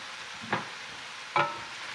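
A spoon stirs chicken with fresh lemon juice in a pan, giving two short scraping strokes about a second apart over a soft steady background.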